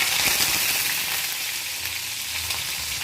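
Mustard seeds, shallots and curry leaves fry in hot oil for a sardine curry tempering, giving a steady, close crackling sizzle with scattered pops throughout and no talking.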